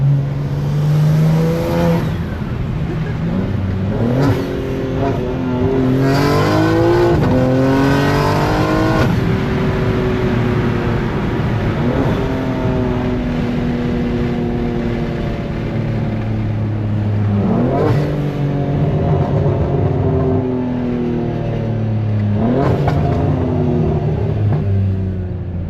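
A 2025 BMW M3 G80 Competition engine and intake revs repeatedly with loud, rising and falling pulls, close and continuous over about 25 seconds, with no talking.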